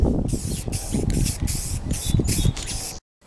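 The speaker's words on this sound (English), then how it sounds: "We take the spray can, spray some of it into the cap" A spray paint can, used outdoors in wind on a motorcycle-parts artwork, hisses loudly in several short close bursts with brief gaps between them before stopping abruptly.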